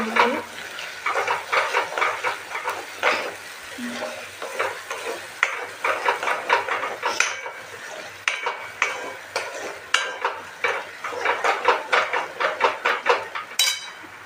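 Black masala and salt are stirred and fried in a pan, with a spoon scraping and clinking steadily against the metal and a light sizzle underneath, heard close and alone.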